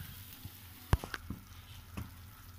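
Vegetables for Nagercoil-style aviyal stirred in a pan after tamarind water is poured in, soft sizzling with a few sharp clinks and scrapes of the spoon against the pan.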